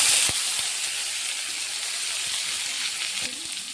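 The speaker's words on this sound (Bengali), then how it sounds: "আদা কাঁচা লঙ্কাগুলো ভেজে নিচ্ছি।" Ginger and green chillies fry in a pan with a steady, close sizzling hiss and a few soft knocks, the sound easing slightly near the end.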